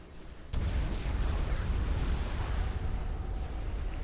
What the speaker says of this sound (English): Something detonated.